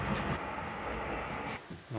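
A funicular rail car climbing uphill in Innsbruck rumbles and hums steadily as it moves, a low continuous mechanical drone that fades near the end.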